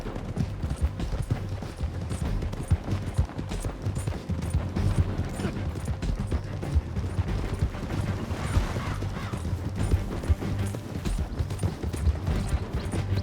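A horse gallops in the Red Dead Redemption 2 video game, its hooves pounding in a steady, fast clip-clop rhythm under faint mechanical game ambience.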